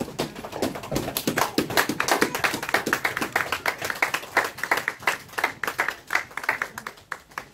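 A church congregation claps together in a fast, steady rhythm of sharp hand claps during worship, loud and close, with faint voices mixed in.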